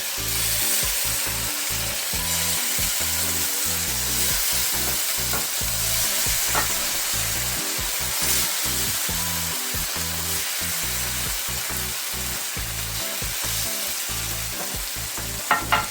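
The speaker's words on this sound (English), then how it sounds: "I turned down the pan to like medium high. We're going to put the shrimp on there first. Let it cook a little bit here." Shrimp sizzles in a pan over medium-high heat, a dense, loud crackle that runs unbroken for the whole stretch. A few small clicks come right at the end, and there is no talking.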